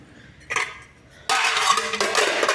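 A small child pushes dishes and pots around, clattering them in a burst at first, then in a louder, sustained scraping and clinking racket close by.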